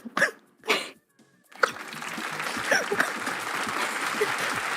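A voice imitating a baby coughing: two short rough coughs, then a pause, followed by steady applause-like clatter and noise that runs to the end.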